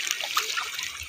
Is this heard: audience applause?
no